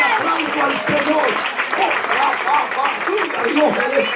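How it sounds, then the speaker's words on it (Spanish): Church congregation clapping loudly together during a service, a dense, sustained burst of applause with voices calling out over it. "Dele fuerte aplauso al Señor."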